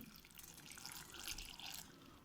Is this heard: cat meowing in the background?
no